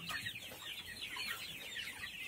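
Desi and DP cross chickens on a poultry farm, many birds clucking and chattering together in a continuous, faint, busy flock sound.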